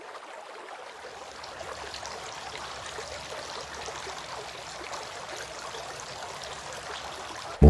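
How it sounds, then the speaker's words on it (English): Water pours steadily onto hands being washed for ablution, a constant close trickling rush that continues without a break. "Washing the hands."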